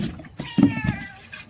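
A cat gives a short meow, fairly close and clear, in a home where a puppy and a dog are playing.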